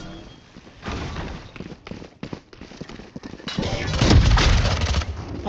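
Shotgun blasts in the tactical shooter Valorant, a few loud booming shots amid clattering footsteps and game effects, building to a dense, heavy burst near the end, with no talk.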